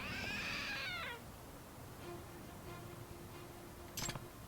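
A cat meow sounds from a trick statue in the video game Lost Judgment, one drawn-out, wavering meow at the start followed by a quiet low hum and a brief bright clatter near the end.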